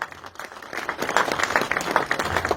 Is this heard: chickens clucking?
no